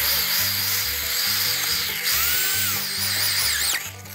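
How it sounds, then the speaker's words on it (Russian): An electric drill fitted with a metal bit bores into flat slate sheeting at low speed, giving a close, loud grinding whine that pulses in a steady rhythm and then eases off near the end. "Дрель подключил сверлом по металлу."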